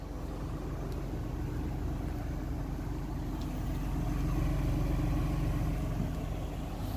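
Car engine idling, a steady, even low rumble with a smooth continuous hum, close and unchanging throughout with no talking.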